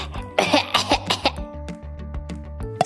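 A cartoon Spider-Man coughs repeatedly in a burst of harsh, close coughs and throat clearing, then a few sparser, softer coughs trail off.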